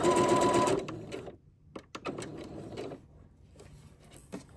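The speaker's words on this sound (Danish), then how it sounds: "Så vi syr en lille smule frem og lidt tilbage." A sewing machine stitching a zipper, running in a rapid mechanical burst, then stopping and starting in short stitches forward and back, close and clear with quiet handling noises between.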